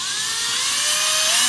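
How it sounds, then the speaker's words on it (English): A small drill bores a hole through a crack in an archtop guitar, giving a steady, high, whining hiss that rises slightly in pitch, loud and close with no talking. "we're going to drill right on the crack"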